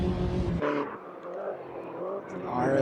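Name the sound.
Mini Cooper race car engine at speed in a racing video game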